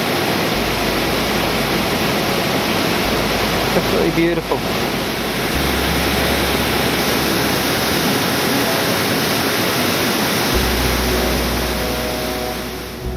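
Waterfalls surround a river gorge on the Flora River, giving a loud, steady broadband roar of falling water throughout, with someone briefly speaking over it.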